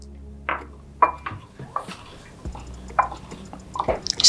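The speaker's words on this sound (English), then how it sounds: "You add it and stir it in." Potash stirred into nkwobi batter, a utensil clinking and tapping against a bowl in irregular sharp ticks and scrapes, close by.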